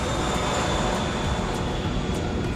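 Steady, loud broadband roar of a 2019 Piper M600 single-engine turboprop aircraft, a continuous cabin drone with a faint high whine running unbroken throughout, no voices.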